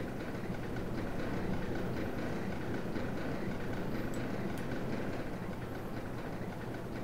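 A segmented coaster train in the video game OpenRCT2 runs along its track, giving a steady, dense rumbling roll with faint clicking, continuous and close for several seconds, with no voices.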